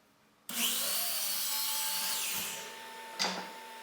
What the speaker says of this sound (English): I set up and cut a shallow dado the entire length of the jig